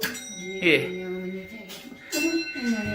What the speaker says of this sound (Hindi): जब ये ऐसे घूमता है तो ये देखो ऊपर एक घंटी बजेगा